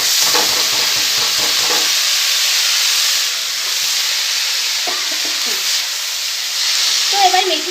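Fenugreek greens drop into frying dal with potatoes in a pan, producing a strong hiss and sizzle, with a spoon scraping and stirring in short bursts early on and again near the end.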